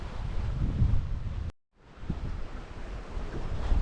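Wind and sea waves rush and wash continuously around a sailing boat running downwind off Norway. The noise is broadband and fairly loud, with a brief near-silent gap partway through.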